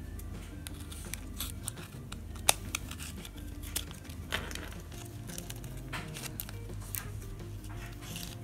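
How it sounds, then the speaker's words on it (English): Scissors snipping and trimming the edges of a glitter butterfly hair bow, a run of small close clicks and sharp cuts at irregular intervals with a soft crinkle of material underneath. "I'm going to trim these down a tiny bit."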